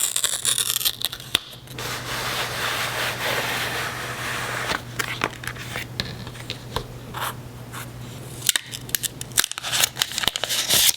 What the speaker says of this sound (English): This unboxing will be done in ASMR